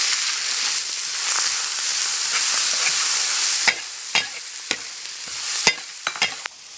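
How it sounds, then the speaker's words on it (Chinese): Chili peppers frying in hot rapeseed oil in a wok, with a loud, steady sizzling hiss at first that gives way to sharp scraping stirs and spatula knocks against the pan; no talking. "现在辣椒爆香了"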